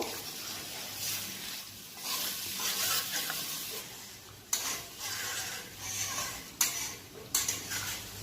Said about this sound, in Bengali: এবার আমি এটা 5 মিনিট নাড়াচাড়া করব